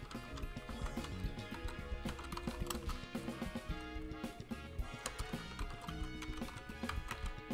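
Computer keyboard typing while entering a heading in SOLIDWORKS, a steady run of quick, close clicky keystrokes with a faint music bed underneath and no speech.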